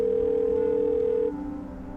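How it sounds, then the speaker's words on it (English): A phone call tone plays on a handset, a steady electronic tone holding for over a second before cutting off, leaving a quieter hum behind, with no talk. "I try calling her again."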